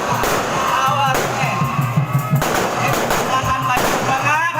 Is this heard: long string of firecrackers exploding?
yes